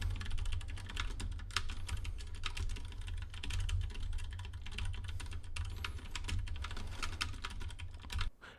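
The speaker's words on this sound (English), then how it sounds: "is going to be a keyboard noise test" Rapid, steady clatter of fingers typing on a computer keyboard, continuous for several seconds over a low background hum.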